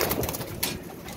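Pigeons kept in pairs, heard close in a short burst of soft cooing mixed with rustling and a brief flutter of wings.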